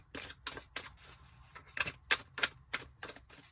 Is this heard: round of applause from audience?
no